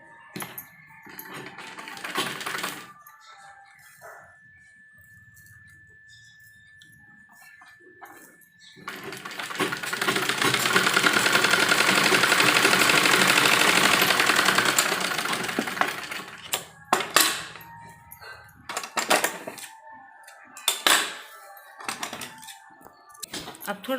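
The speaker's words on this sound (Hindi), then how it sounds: "इस तरह यहाँ पर बीच में सिलाई लगाएंगे" A sewing machine stitches a net blouse for an embroidered lehenga, with short bursts of close mechanical rattling, one long steady run in the middle and then more brief stop-start bursts. No one speaks.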